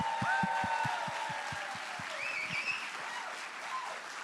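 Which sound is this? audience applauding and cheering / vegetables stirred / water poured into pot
audience applauding and cheering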